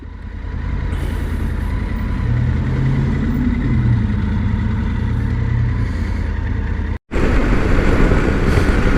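A Triumph Tiger 900 motorcycle being ridden along winding Normandy country roads: a loud, steady engine drone mixed with rushing wind that holds throughout, broken by one brief dropout near the end.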